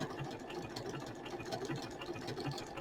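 A sewing machine runs a straight stitch through paper, giving a fast, faint, even mechanical clatter that holds steady throughout without pause.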